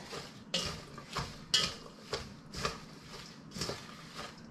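Shredded cabbage being tossed and mixed with salt by hand for sauerkraut, a series of about seven rustling, crunching pulses spaced roughly half a second apart, close and moderately loud.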